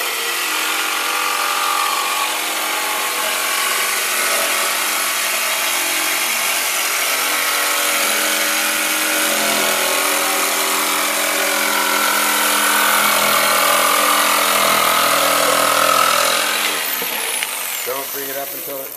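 A power saw cuts steadily through a longboard skate deck, a loud continuous whining drone with a steady pitch lasting nearly the whole stretch before winding down at the end.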